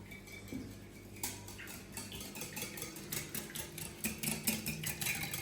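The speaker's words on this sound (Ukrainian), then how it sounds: "І ще раз гарно все перемішуємо" A mixture with beaten egg and Provençal herbs being stirred in a bowl, with a faint low hum at first, then soft repeated scraping clinks of a utensil that grow steadier and slightly louder.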